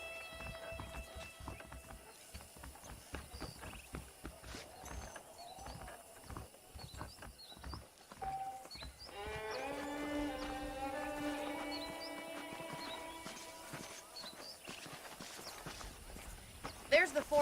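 Horse hooves clip-clop steadily in the Red Dead Redemption video game, a moderate rhythmic patter under a continuous music score and spoken dialogue.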